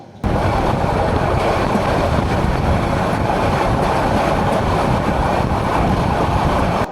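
The Mahanagar Provati train runs along the line on the Dhaka to Chattogram route near Tongi, giving a loud, steady, continuous rumble and roar of wheels on rails close by, with no talk.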